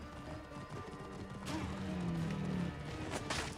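Horse hooves clopping with a short whinny in Assassin's Creed Origins, a steady loud gallop over game ambience that swells midway.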